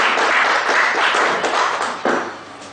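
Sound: audience applause

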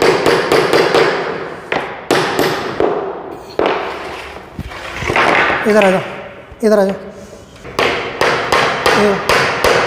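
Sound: hammering a nail into plywood board

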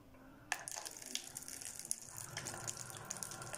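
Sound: water tap running into a measuring cup

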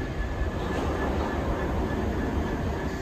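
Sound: London Underground Central line train leaving the platform

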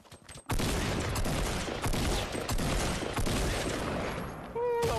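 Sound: gunfire in the video game Fortnite

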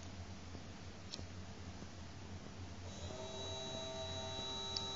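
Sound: small electric motor running on a breadboard circuit

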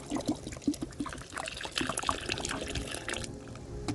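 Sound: pouring water into sesame cake compost mixture

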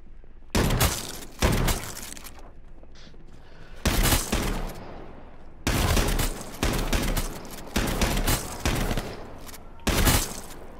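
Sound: gunfire in the video game H1Z1

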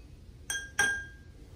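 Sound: spoon tapping glasses filled with different water levels

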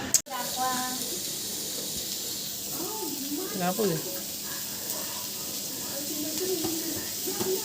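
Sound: onion roasting in a pan

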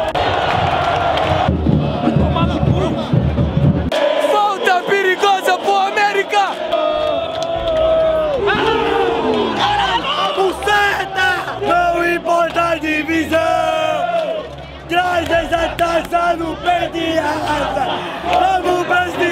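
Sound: América football fans chanting in stadium

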